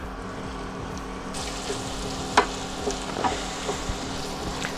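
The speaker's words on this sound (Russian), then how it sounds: "И все это обжариваем, перемешиваем. Постоянно помешиваем, чтобы лучок у нас не подгорал." Chopped onion and garlic sizzle steadily in a frying pan for chili con carne with minced meat, with a few sharp scraping clicks of stirring against the pan.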